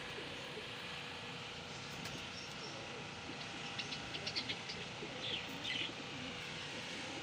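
Faint pigeon coos and bird sounds come in short bursts over a low outdoor rumble, soft and somewhat distant, as low-flyer racing pigeons return during a pigeon-flying tournament.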